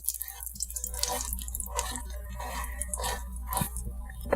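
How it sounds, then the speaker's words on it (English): Almonds toast in a pan with bacon over low heat, giving scattered, close crackles and small pops that sputter on without a break and no voices. "So you can see here, the almonds are just cooking away."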